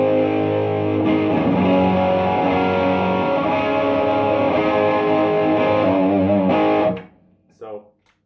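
Electric guitar on the bridge pickup through an Ibanez Tube Screamer pedal at full drive and full level, a loud sustained distorted chord ringing for about seven seconds before cutting off, followed by a brief faint noise.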